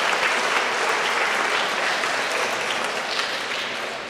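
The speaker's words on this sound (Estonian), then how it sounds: "Võite endale aplodeerida küll," Audience applause at a school Christmas concert, a dense steady clapping from a large crowd that holds strong throughout and tapers only slightly at the end, with no voices over it.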